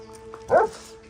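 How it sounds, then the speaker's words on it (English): A single sharp dog bark, close and fairly loud, rises briefly over a low steady hum. "And you too, stop barking at Electra"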